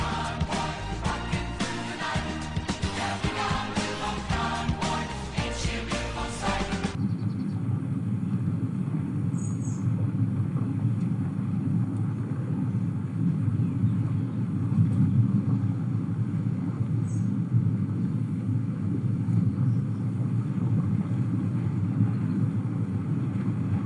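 In Space Engineers, a planetary drill rig drives forward with a steady, heavy low rumble and whooshing drone that runs unbroken after a few seconds of music fade away.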